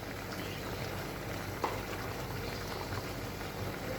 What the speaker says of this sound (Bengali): এখন আমি আরও কিছু পেঁয়াজ কুচি দিয়ে দিচ্ছি